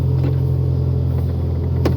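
The engine of a 2008 Toyota RAV4 with automatic transmission idles in a steady, low, close rumble with an even hum and no revving.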